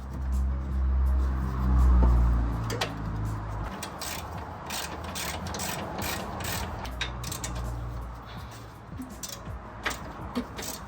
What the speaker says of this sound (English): Put these bolts on.